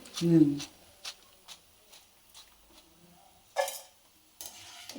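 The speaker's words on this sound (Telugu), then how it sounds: "ఇట్లా గోల్డ్ కలర్లో మంచిగా ఎర్రగా వేయించుకుంటే బాగుంటుంది" Bitter gourd slices are fried golden and stirred in a pan. Soft scraping strokes and brief rustles come at intervals over a quiet background, with a short burst of speech at the start.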